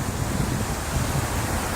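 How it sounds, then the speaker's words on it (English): Steady broadband wash of falling, splashing water from the fountains on the Seagram Building plaza in New York, constant and fairly loud with no breaks or voices. "You can see here the beautiful water fountains"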